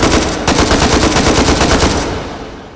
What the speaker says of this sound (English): So we're going to go ahead and fire this a bunch.